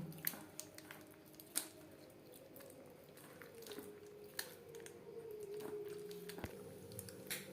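Wet squelching of hands kneading egg and mashed potato batter for crispy egg fritters, soft irregular squishes with a few sharper clicks, close and quiet.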